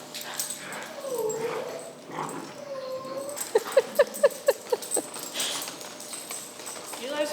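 Several puppies of mixed sizes mingle in a play group, giving a run of short sharp yips and barks in the middle, with whimpers and people talking around them.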